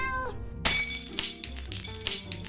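Glass bottles lined up in a garden clatter and shatter as a cat walks past and knocks them, a sudden loud crash followed by several rattling clinks, preceded by a short meow.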